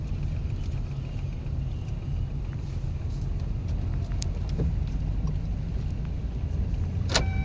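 A car rumbles along steadily during an off-road driving lesson at a Thiruvallur driving school, a loud continuous low engine and road drone with a few faint rattles and a brief clunk near the end, no voices.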